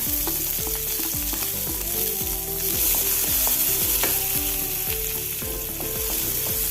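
Green chillies, beans and onion frying in a spoonful of coconut oil for a drumstick-leaf chutney, a steady loud sizzle with repeated scraping stirs at a regular rhythm, close up and with no talking.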